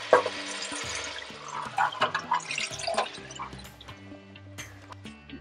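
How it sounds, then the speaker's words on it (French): Water is poured into a fish and peanut sauce cooking in a pot, producing splashing, dripping liquid sounds over a faint background of music. "Là, on va ajouter de l'eau."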